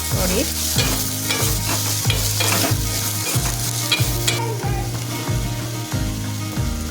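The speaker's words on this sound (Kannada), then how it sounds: "ಸೊ ನಾನು ಈಗ ಸ್ವೀಟ್ ಕಾರ್ನ್ ಹಾಕ್ಕೊಂಡು ಫ್ರೈ ಮಾಡ್ಕೊತಾ ಇದ್ದೀನಿ" Sweet corn frying in a pan, a loud crackling sizzle punctuated by rhythmic scrapes and taps of a spatula stirring roughly every half second, close by with no speech.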